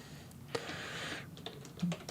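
Computer keyboard typing while writing code in a web editor, a short run of soft, scattered key clicks at close range with no talking.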